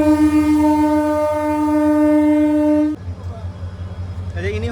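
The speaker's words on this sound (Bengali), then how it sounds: "এটা হচ্ছে আমাদের ট্রেনের লোকোমোটিভ" A local passenger diesel train locomotive idles loudly with a strong steady engine drone and a sustained horn-like tone that cuts off about two-thirds through, leaving a lower rumbling engine with faint station noise.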